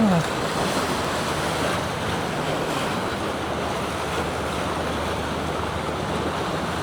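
Ocean waves surging and washing continuously at Masasa Beach among rock formations on Tingloy Island, Batangas, mixed with wind noise, a steady full roar without pauses.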